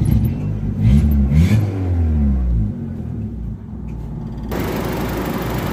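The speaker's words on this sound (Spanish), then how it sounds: "Oímos, ahí arrancó." A 2004 Honda Civic engine cranks and catches, surging loudly with rising revs before settling into a steady, lower running rumble, heard up close.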